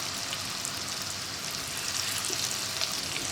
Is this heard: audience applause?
no